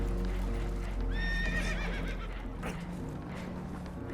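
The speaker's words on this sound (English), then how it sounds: "Horses are spooked, and we're taking on water." Spooked horses in Red Dead Redemption 2, aboard a damaged boat taking on water, let out a sharp, shrill whinny with a wavering tail, rising over a steady low rumble of water and background noise.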